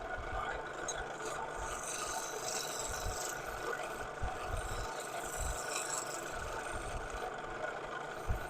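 Wood being sanded on a spinning lathe during woodturning gives a steady, continuous rasping hiss over the low hum of the running lathe, constant and moderately close.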